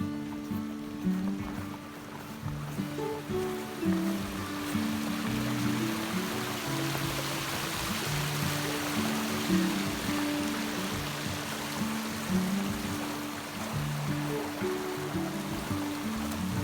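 Scottish hill burn flowing toward a loch, a steady close rush and babble of water running unbroken throughout with faint low tones beneath.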